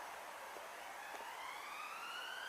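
A police siren wails outside a car park, heard from inside a parked car: a distant, moderately faint rising and falling tone sweeping upward steadily over a hushed background.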